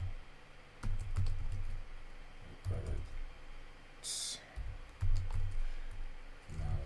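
Scattered keystrokes on a computer keyboard while code is typed, close but fairly soft, in short clusters of clicks over a low background hum.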